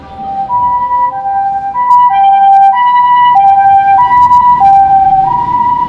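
A Japanese ambulance siren plays loud and close, a repeating two-tone melodic wail cycling steadily over low traffic rumble, with no voices.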